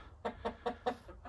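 Chickens cluck in four short, evenly spaced calls, close and moderately loud, from a cross rooster of Plymouth Rock and Dark Cornish with purebred white Plymouth Rock hens kept for meat.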